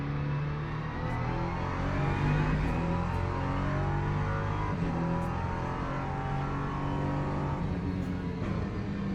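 A race car drives a lap of Paul Ricard in the sim game Le Mans Ultimate, its engine a loud, steady, close drone with gentle pitch shifts and faint ticking clicks over the top.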